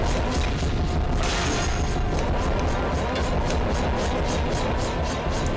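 A knight enemy exploding in The Legend of Zelda: The Wind Waker, heard as a dense, loud burst of crashing, booming noise that fills the whole stretch with rapid crackling pulses.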